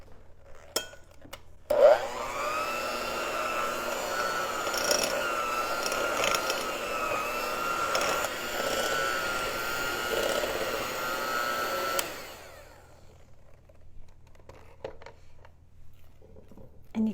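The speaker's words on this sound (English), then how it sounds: "I'm going to take the lazy route and use a hand mixer." An electric hand mixer whirs steadily through thick cheesecake coffee cake batter for about ten seconds, its motor pitch wavering as it churns, then shuts off, leaving quiet room noise and a few clicks.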